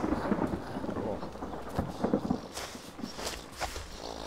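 Thunder rumbles through a night scene in the video game DayZ, low and rolling, under patter of rain and occasional footsteps, moderately faint and distant.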